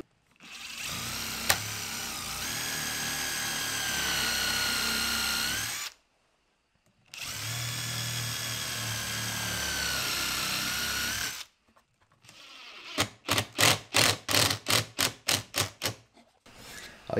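A power drill drives screws into plywood during woodwork on an old window frame, two long steady whirring runs separated by a pause, then a series of short rapid pulses, loud and close with no talk.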